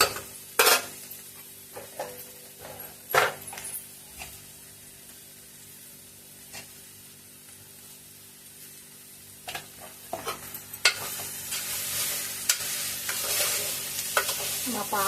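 A spoon stirs beans curry in a pan, scraping and clinking in bursts over a soft, continuous sizzle that grows brighter and louder toward the end.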